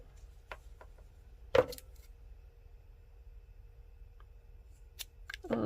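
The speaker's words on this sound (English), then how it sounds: "Cut that, and then we cut each of the loops on there." Scissors snipping through the yarn loops of a small crochet alien keychain: a few faint snips, one sharp louder cut, then another pair of cuts near the end, all close and quiet with no talking.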